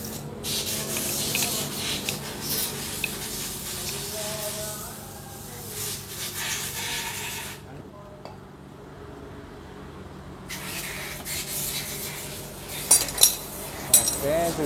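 Metal parts rubbing and scraping while a tight tracker piece is worked loose and removed from a Honda CB motorcycle, with close, intermittent clinking and grinding, a quiet pause midway, then renewed rattling and sharp taps near the end.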